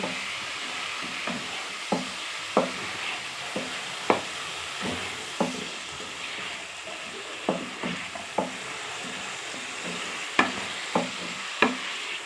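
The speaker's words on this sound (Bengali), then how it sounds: "সব মশলা দিয়ে আমার বন্ধুরা শুকো মাছটা কষানো হয়ে গেছে" Dried fish sautés with spices in a pan on the stove, a steady close sizzle broken by regular spatula scrapes and knocks about every second, with no talking.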